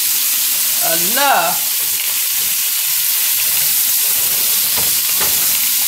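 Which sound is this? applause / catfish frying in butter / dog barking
catfish frying in butter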